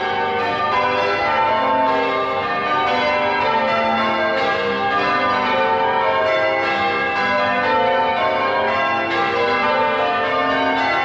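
Church bells ringing in Chester, a dense, continuous peal of overlapping tolls filling the air steadily and loudly, with no voices.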